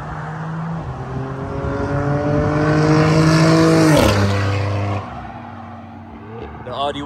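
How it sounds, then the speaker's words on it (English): An Audi RS5 and a BMW M3 racing, one engine revving up hard in a rising whine that peaks and drops sharply as it shifts, then settles to a lower drone, loud and near. "So we got the Audi versus the M3 right now."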